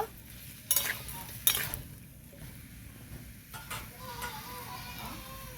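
Pumpkin pieces for sukto fry with salt in a pan, making a faint, steady sizzle broken by a few sharp scraping clinks of a spatula against the pan.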